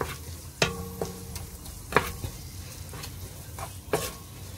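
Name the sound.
garlic cloves sautéing in ghee with onion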